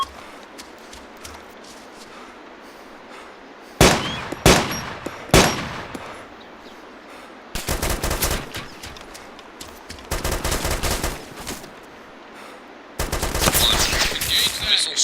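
Bursts of automatic machine gun fire from a shooting video game, loud rapid volleys in several separate stretches with quieter gaps of background ambience between them.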